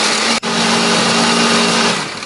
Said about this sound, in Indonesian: Baru setelah ini kita akan haluskan menggunakan blender.